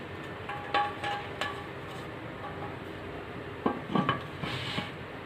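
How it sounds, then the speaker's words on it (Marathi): A pressure cooker lid is set in place and fitted over a kadhai sitting in water inside the cooker, giving a few sharp metallic clinks and clanks spread across a few seconds over a quiet kitchen background. "हे झाकण आहे ना हे झाकण लावून घ्यायचं"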